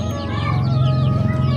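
Young local chickens about one and a half months old cluck and chirp nearby in a continuous, overlapping chatter.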